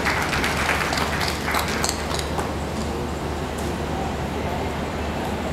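Crowd applause welcoming a guest onto the stage at a film audio launch event, a broad continuous wash of clapping fading slightly over a low steady hum.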